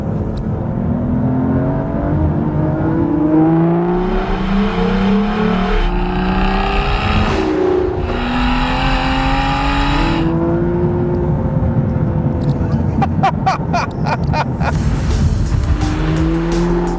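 A manual Aston Martin V12 Vantage S revs hard and climbs through the gears, heard from inside the car, with tire noise and a steady roar throughout.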